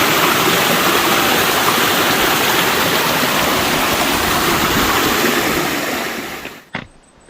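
Dense, steady roar of a waterfall in the rain on a Maine trail, loud and close, filling the whole clip before cutting off abruptly near the end with a brief thump.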